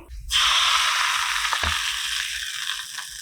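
Hot cumin, ajwain and asafoetida tempering hits rice batter with a sudden, loud sizzle that keeps hissing strongly and fades only slightly over a few seconds.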